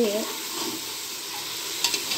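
Masala and chillies are stirred together in a hot pan with a steady, close sizzle and scraping, and a few sharp clicks of the spoon against the metal near the end.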